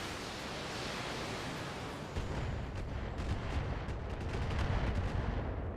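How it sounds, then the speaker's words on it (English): Weapons fire from mechs in the BattleTech video game, a dense roaring barrage of shots and blasts that thickens after a couple of seconds and continues loud to the end. "So we're going to go ahead and start firing on that."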